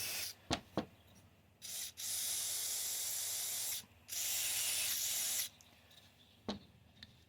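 Mass airflow sensor cleaner sprays from an aerosol can onto the sensor of a Hummer H3 in two long, steady hissing bursts of about two seconds each, framed by a few short taps and knocks, close up with no talking.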